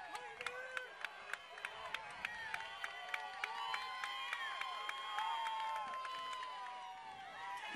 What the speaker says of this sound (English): Pioneer fans cheering